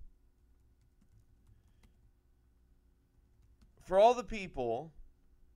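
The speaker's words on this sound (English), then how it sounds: "I'm typing and speaking at the same time." Soft, faint clicking of a computer keyboard as someone types quietly for several seconds, followed by a person speaking near the end of the clip.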